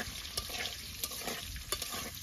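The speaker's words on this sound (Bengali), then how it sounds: "এই তেলেতেই আমি সবজিগুলো সব ভেজে নেব।" Winter vegetables frying in oil in a pan for khichuri, with a soft steady sizzle and occasional spatula scrapes and taps as they are stirred, fairly quiet.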